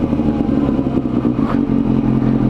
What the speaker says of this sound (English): So as I'm releasing my clutch, I'm giving throttle, as you can see, and there we go.